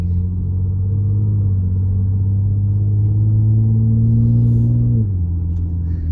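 Inside a Ford Explorer EcoBoost with its muffler deleted, a deep steady exhaust drone fills the cabin at cruising speed, holding a low even hum that dips slightly in pitch near the end.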